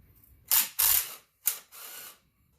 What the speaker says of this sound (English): so we're removing all the bolts now